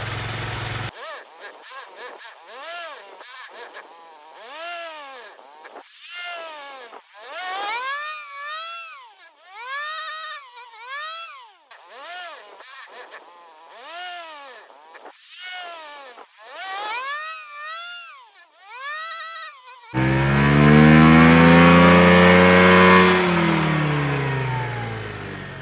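Ryobi weed trimmer small two-stroke engine with a replacement carburetor, running and revving up and down in repeated swells, then holding a loud sustained high rev near the end, close by.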